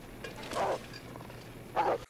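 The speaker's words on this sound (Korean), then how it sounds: "이 늑대가 무슨 건물 안까지 들어와 있어" A wolf in The Long Dark growls inside a building, with two low rumbling growls: one longer burst early on and a second shorter, louder one near the end, over a quiet background.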